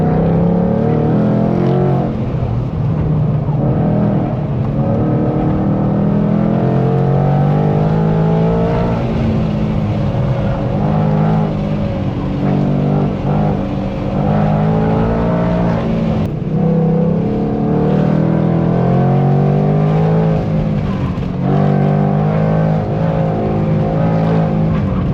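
A Chevrolet ZR2 with the 3.0 Duramax diesel engine drives while towing about 6000 lbs, giving a steady, loud, close engine drone and road roar that shifts in pitch through the run, with no talking.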